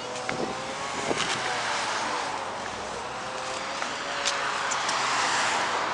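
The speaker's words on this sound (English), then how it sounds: "it's still very windy" Strong wind gusts outdoors on a blustery day during a neighborhood walk, a steady broad rushing roar buffeting the microphone throughout with no talking.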